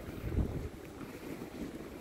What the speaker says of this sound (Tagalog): Medyo mahangin siya guys, malamig.